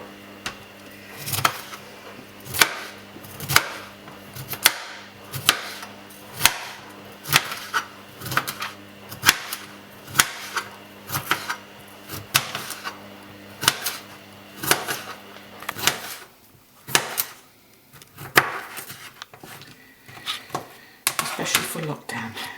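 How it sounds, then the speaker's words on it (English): Vegetables are chopped for soup in a home kitchen, a knife striking the board in a steady, regular rhythm of sharp close knocks that loosens into scattered cuts near the end. "Now there's something very therapeutic about chopping."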